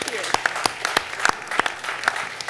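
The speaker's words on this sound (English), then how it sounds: "I would call for an applause on behalf of our editor." Applause from the floor of a delegate assembly meeting, a burst of many hands clapping steadily throughout, with some voices mixed in underneath.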